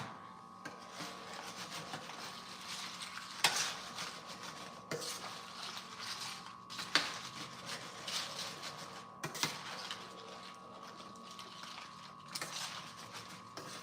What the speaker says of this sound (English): We give this a stir.